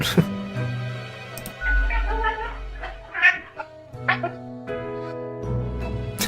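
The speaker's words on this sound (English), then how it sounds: "The cat emits a sequence of low-pitched meows" A cat gives a series of drawn-out, low, moaning meows, close and fairly loud, over a steady humming background.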